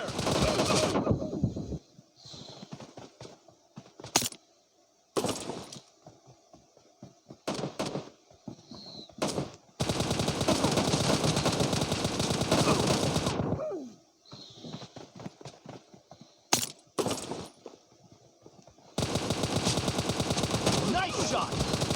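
Bursts of automatic gunfire in the video game PUBG, fired in repeated volleys of varying length separated by short pauses, loud and close, with occasional voices between.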